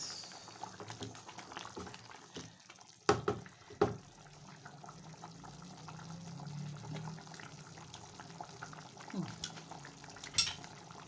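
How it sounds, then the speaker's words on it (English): A spoon stirs a pot of oily cooked sauce in a Lagos home kitchen. A gentle, continuous simmer comes with a few louder scrapes and clinks against the pot, and low talk is faintly audible. "I will stir and test for salt."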